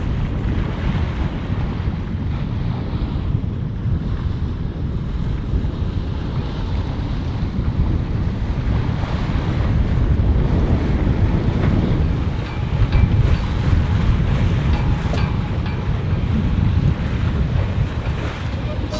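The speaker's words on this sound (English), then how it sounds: "Bit of wind today, 20 knots, so those two things combined makes a little short, steep, choppy sea" Choppy, short steep sea slaps against a sailing boat in 20-knot wind between islands, with continuous loud broadband wash and buffeting wind noise on the microphone, steady throughout with a slight surge near the end.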